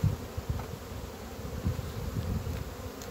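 Bees in a small colony buzz in a dense, steady hum with slight swells in loudness, heard close and alone throughout.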